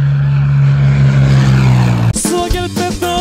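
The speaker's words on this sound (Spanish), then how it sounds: "Mira, ahí va la avioneta" Small propeller airplane passing overhead, a steady droning engine hum that fades out partway through, giving way to nearby music and background sounds.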